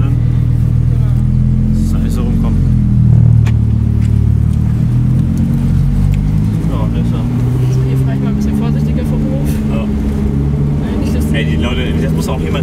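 Lamborghini engine idles low and strong, then rises in pitch as the car pulls away, with people talking over the steady rumble close by.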